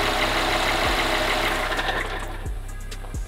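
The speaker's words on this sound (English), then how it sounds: "as you can see, the engine is running" A Mercedes A35 AMG engine runs with a steady droning hum, and a cooling fan whirs loudly beside it. A few low thumps break in near the end.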